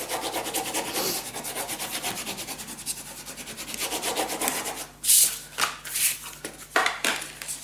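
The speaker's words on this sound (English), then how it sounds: "burnish it down." Paper being burnished down by hand onto a page of a burgundy mini scrapbook album, brisk repeated rubbing strokes close by, followed by a few sharper rustles and taps as the paper is handled.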